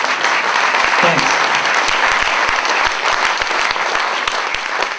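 Audience applause breaks out after a talk at a PKN Wellington event, a steady wash of clapping hands lasting throughout, close and full.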